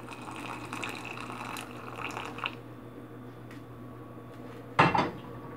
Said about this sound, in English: So I just add hot water.